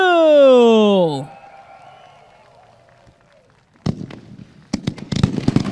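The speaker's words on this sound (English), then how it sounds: "13th win of the season as the fireworks come off here in Putnamville, Indiana, showering over victory lane." Fireworks go off over victory lane at Lincoln Park Speedway in Putnamville, Indiana, at a High Limit Racing event: a loud falling tone opens, then after a lull come sharp, sputtering crackles and pops in a rapid burst.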